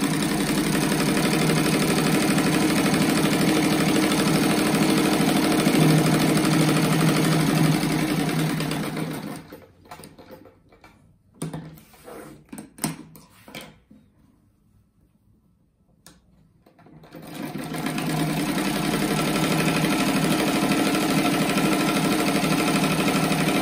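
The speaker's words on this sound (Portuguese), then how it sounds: "Vou passar uma costura dos lados" A sewing machine runs steadily and loudly while stitching fabric strips along the sides of a pencil-shaped rag rug, stops for several seconds of quiet handling noises, then resumes its even whir.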